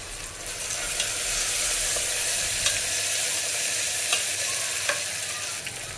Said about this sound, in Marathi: मिडियम साईजचा टोमॅटो तोही बारीक कापून घेतला आहे तोही भाजून घेऊया